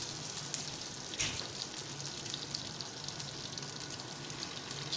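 Oil heating over a medium flame in a pan, ready for chicken malai boti, gives off a steady soft sizzle and crackle that runs unbroken and fairly quiet, with a few sharper pops.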